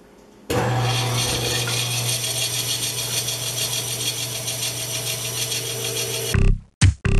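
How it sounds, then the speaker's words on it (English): A bandsaw cuts out the shape of a wooden cane handle with a loud, steady whine and rasp for several seconds, then winds down and cuts out in a few short bursts. "Let's do that next on the bandsaw."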